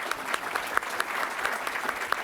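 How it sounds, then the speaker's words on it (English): At a tech conference session on AI and sports, the audience applauds in a continuous, moderately loud wash of many hands, with a few sharper individual claps standing out. "Guys, let's give a round of applause for Johnny"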